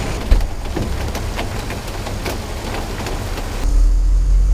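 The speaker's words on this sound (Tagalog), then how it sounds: "Dito lang sa Tutuban umuulan," Steady rain falls during a typhoon in Tutuban, Manila, a dense, even hiss with scattered droplet taps. A low vehicle engine rumble swells near the end.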